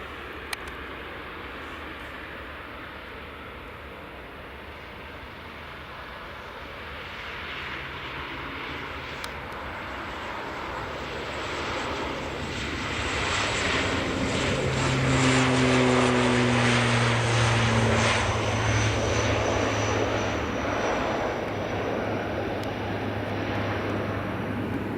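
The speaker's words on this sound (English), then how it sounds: "Aer Lingus departing." An Aer Lingus airliner departs Edinburgh Airport, its engine roar swelling gradually from a distant hiss into a louder, sustained rumble with whining tones as it climbs away, steady and unaccompanied by talk.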